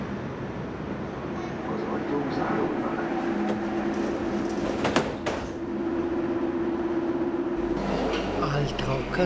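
Soviet-built Metrovagonmash metro train running on the Budapest line toward Újpest, a loud continuous rumble with rattling, a sustained whine and brief clanks, heard from inside the car.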